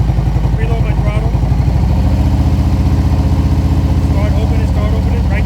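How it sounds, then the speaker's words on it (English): A motorcycle engine close by drops from a raised rev to a lower, steady idle-like chug as the clutch is let out, with a continuous rhythmic throb through the clip. "See, you hear it barking? The engine's going to go down."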